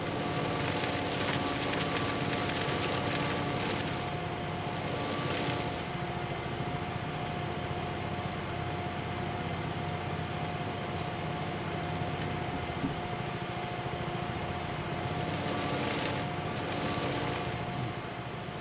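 A snow blower engine runs steadily for a long stretch, a constant droning hum with a rushing hiss of snow being thrown, even in loudness and close by, with no talking.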